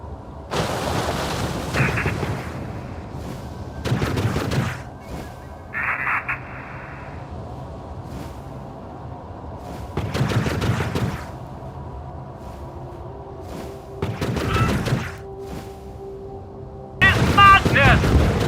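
Warbird gunfire in The Falconeer flight combat game comes in loud, booming bursts about a second long, repeating every few seconds over a low, steady background hum.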